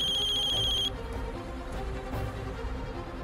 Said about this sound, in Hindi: कल्याणी का फोन